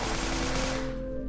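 A quick burst of gunfire from a weapon in Minecraft during a zombie-apocalypse scene, dense and loud for about a second, then cutting off and fading into a low steady background hum.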